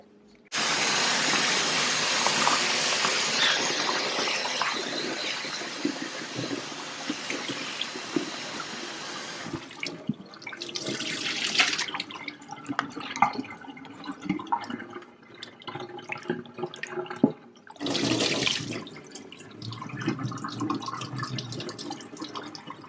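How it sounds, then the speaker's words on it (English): Water runs steadily over a husked coconut to rinse out debris, a loud continuous splashing that stops, then returns in shorter bursts with drips and handling noises between. "you just need to go in with some water and wash out all the debris"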